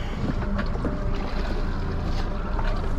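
A fishing boat bottom fishing for halibut off British Columbia, Canada, with a continuous loud rush of wind and water and an engine-like rumble close to the microphone, without talking.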